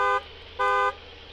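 Two honks from a car horn in Farming Simulator 19, a short beep and then a slightly longer one, each a loud, clean steady tone over a faint hum of the vehicle.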